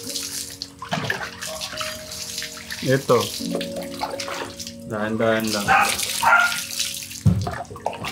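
Water is poured and splashed steadily while an elderly man is bathed and washed of thick oil on his body, the flow continuing under people talking throughout.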